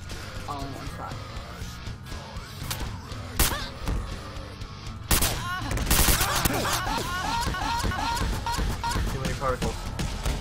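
Counter-Strike weapons fire in a video game, with bursts of rapid gunshots and heavy thuds growing denser and louder toward the end, mixed with other game effects while people talk over it.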